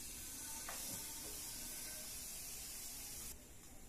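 Steam hissing out of a pressure cooker as its pressure is released, a faint, steady broadband rush that holds evenly for several seconds before dropping off near the end.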